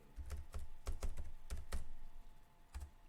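Keystrokes on a computer keyboard while entering a search term into PubMed, arriving in short bursts of crisp clicks with pauses between them, close and clear, with no talking.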